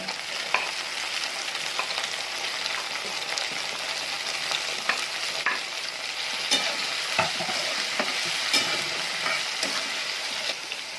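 Tomato hits browned onion in a pan of oil for a capsicum rasaa curry, giving a close, steady frying sizzle with scattered crackles and spoon clicks throughout.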